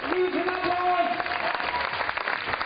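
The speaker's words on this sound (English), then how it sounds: "Warmly received by this Innsbruck crowd." Steady applause from the Innsbruck crowd at a women's bouldering World Cup qualification, loud and continuous clapping with some crowd noise mixed in throughout.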